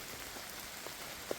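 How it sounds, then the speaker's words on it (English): Heavy rain pouring in woodland in southeast Scotland, a steady soft hiss of drops on leaves and ground with a few louder close drips standing out, no voices. "I'm in the woods, it's pouring with rain"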